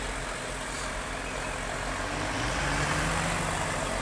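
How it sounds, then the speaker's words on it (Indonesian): Concrete mixer truck running at a toll road construction site, a steady low engine rumble with broad noise filling the scene throughout. "Ini di sisi kanan ada mobil untuk pengecoran ya. Tuh mobilnya tuh, mobil pengecoran."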